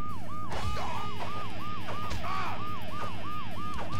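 A wailing ambulance siren in the motorcycle racing game Road Rash 64 cycles steadily up and down in pitch, repeating about eight times over a low rumbling engine drone, with occasional clunks.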